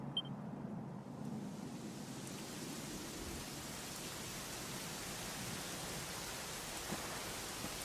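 Steady rainfall in the video game Dragon Quest XI, a dense even hiss of drops on a surface with a low rumbling undertone, continuous throughout.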